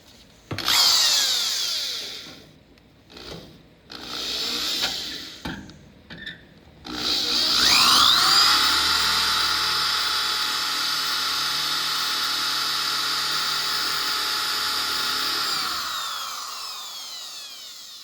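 An electric drill whines through metal drilling out spot welds on a Triumph TR250, in short bursts, then runs in one long sustained grind before winding down to quiet.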